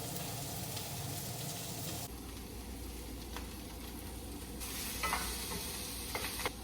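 Garlic in melted butter sizzles gently in a pan, a steady fizzing hiss close by that shifts in level partway through, with a few light clicks.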